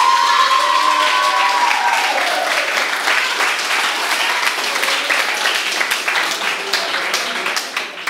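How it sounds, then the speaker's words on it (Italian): A studio audience applauds and cheers at a social club game show while a contestant's elegance is put to a vote, with loud, dense clapping and a few raised voices that start strong and taper slightly toward the end. "Applauso per l'eleganza di Esther."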